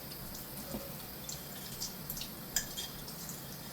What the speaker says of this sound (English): we can go ahead and wash the pot while it waits